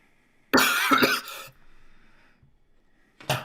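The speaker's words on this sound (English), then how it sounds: "Sorry, I was coughing." A couple of loud, close coughs in quick succession, then quiet, followed by one more short cough.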